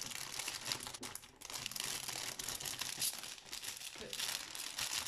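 Close, continuous crinkling and crumpling of wrapping paper, with busy rustles and crackles that never pause.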